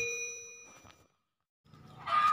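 A bright metallic ding rings out and fades, followed by silence, then another chime with a brief clanging burst.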